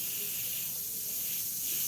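Spray paint hisses steadily from an aerosol can onto a volcano painting, a continuous close, broadband spray lasting the whole moment without pause.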